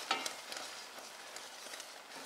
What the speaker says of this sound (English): We're going to stir this about for just a minute